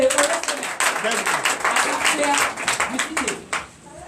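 Congregation at a Sunday church service in Benin clapping in acclamation to Jesus, rhythmic claps mixed with voices and singing throughout.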